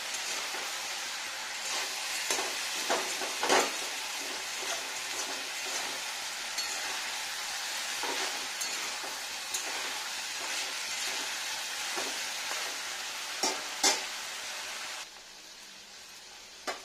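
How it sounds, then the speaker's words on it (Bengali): Pointed gourd (potol) frying in a pan with a little salt, a steady soft sizzle with scattered crackles and stirring scrapes, fading slightly near the end, no talking. "এবার পটলটা ভেজে নেওয়া হয়ে গেছে প্রায়।"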